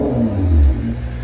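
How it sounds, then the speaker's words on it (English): A turbocharged Nissan GT-R engine revs up loudly with a deep low rumble and whir, swelling around the middle and easing off, no voices. "Let me give it a few revs."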